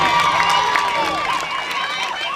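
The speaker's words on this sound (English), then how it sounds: "Great crowd building here at the Lavington Sports Ground, all sides." Spectators at the Lavington Sports Ground during a netball A grade grand final, a steady roar of crowd noise with scattered shouts and cheers all around.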